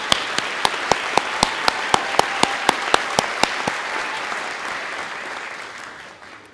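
Audience applause at a university College of Education graduate hooding ceremony, a dense wash of clapping with a few sharper, regular claps standing out near the front, fading away over the final seconds.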